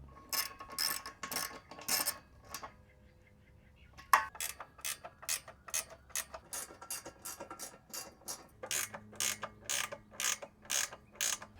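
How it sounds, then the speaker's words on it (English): A ratchet tightens the bottom bolts of a Hooke Road side step on a Jeep JLU, giving quiet, close, rhythmic clicking strokes in steady runs with a short pause near the middle. "I'm gonna tighten the bottom bolts all the way"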